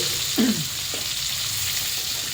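Onion goes into a pan of frying garlic, giving a steady hiss with a couple of short scraping stirs early on, moderately loud and close.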